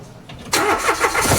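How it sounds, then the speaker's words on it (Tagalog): A Mitsubishi Mirage engine cranks briefly and catches on a new battery, firing up loud and close into a rough idle. "Ngayon i-start ko uli yung battery para matry natin"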